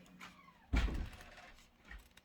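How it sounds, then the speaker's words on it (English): A house door to the outside closes with one dull, heavy thud, fairly close, followed by a short rumbling tail and quiet room noise. "if you hear a door slam"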